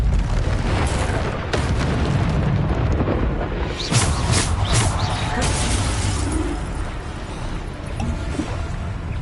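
Bombarda blasting spell in Hogwarts Legacy combat, several loud booming bursts with crackling debris, the strongest cluster around the middle, over a constant rumbling game soundscape.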